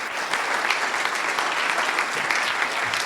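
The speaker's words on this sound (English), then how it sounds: "So can we have a massive round of applause, please, for Lara?" An audience at a talk on women in tech breaks into dense, steady applause that lasts the whole stretch, loud and close, with no talking over it.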